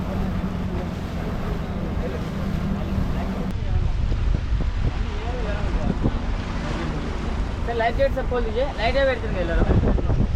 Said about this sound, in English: Faster boat, speed boat.